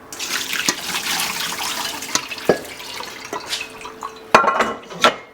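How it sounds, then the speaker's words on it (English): Hot water being drained from soaked rice noodles in a kitchen, a continuous watery rush with splashing and occasional clinks of a pot or colander, close and moderately loud, no talk. "Now I'm gonna drain the water."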